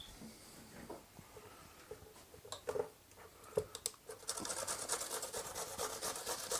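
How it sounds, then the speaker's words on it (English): A cucumber coarsely grated by hand, producing short rasping scrapes that start sparse and soft, then build into a quicker, denser run of grating strokes toward the end, close and moderately loud with no talking. "we just want to grate it, coarsely grate it."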